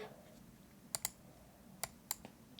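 Typing on a computer keyboard while writing game over in a Scratch game: a few faint, crisp key clicks in two small pairs over quiet room tone, no talking.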